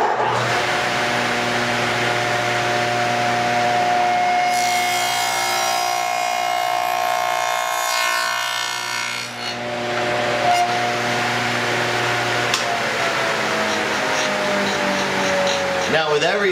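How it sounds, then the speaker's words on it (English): A saw cuts a dado across a wooden workpiece with a steady, close motor whine and hum that shifts in tone midway through the cut and runs continuously for the whole stretch. "So let's go ahead and make our first cut,"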